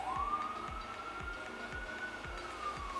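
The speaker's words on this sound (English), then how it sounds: "The ambulance is passing by." An ambulance siren passes in Vancouver, a steady rising and falling wail at moderate distance, with a regular low thumping repeating underneath throughout.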